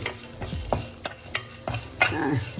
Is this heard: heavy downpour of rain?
no